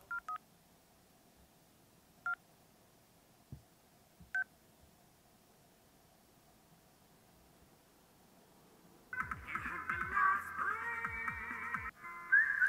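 A faint electronic phone tone repeats in short bursts about every two seconds over quiet hiss, followed by louder muffled rustling and noise.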